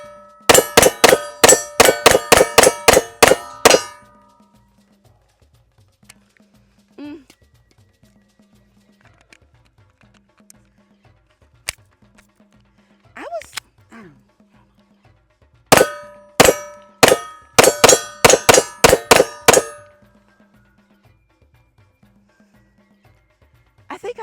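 Two rapid strings of sharp gunshots from an HK CC9 pocket pistol, one at the start and one near the end, loud and close, with ringing metallic decay and faint talk in the quiet gap between.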